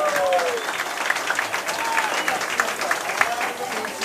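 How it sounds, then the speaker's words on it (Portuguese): Audience applause for a jazz big band, a steady wash of clapping with a few whoops and whistles rising above it. "Mais uma salva de palmas,"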